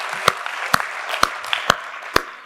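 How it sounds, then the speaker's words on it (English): Audience applause for librarians at a library book talk in Beaufort, South Carolina: a moderate, diffuse wash of clapping from a room of people, with several sharper nearby claps standing out at irregular intervals. "Round of applause for her and her colleagues."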